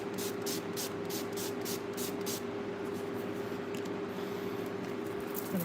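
A series of short, hissing bursts of Revolution setting spray in quick succession over a steady low hum, close to the microphone, then fading to quiet background noise.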